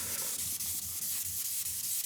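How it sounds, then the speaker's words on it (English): Close, rhythmic scraping of a sanding block rubbed back and forth over the painted trunk of a 1977 Camaro Z28, wet-sanding at 1,500 to 3,000 grit, in quick repeated strokes, with no talking. "the sanding gets easier because you're not trying to take off any orange peel or anything"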